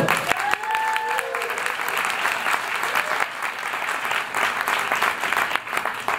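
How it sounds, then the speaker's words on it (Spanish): An audience breaks into sustained applause at an academic talk on biological collections and natural history museums, dense and loud clapping filling the whole stretch with a few stray voices early on. "Un aplauso, por favor."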